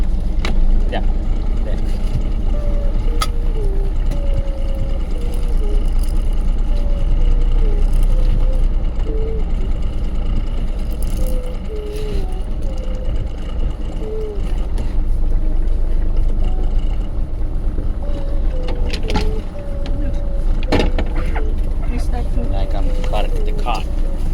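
Motorboat engine droning steadily on Lohja lake in Finland, a constant low rumble running throughout with people talking over it.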